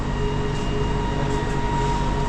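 Kuala Lumpur LRT light rail train riding from KL Sentral, heard from inside the car as a steady, loud rumble with a low electric hum and a faint high whine, continuous and with no talk.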